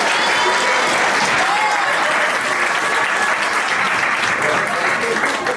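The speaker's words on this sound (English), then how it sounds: "Can we give him a round of applause for" Loud applause at a wedding reception for the DJ, a thick, continuous roar of many hands clapping close by, with faint voices and cheers mixed under it.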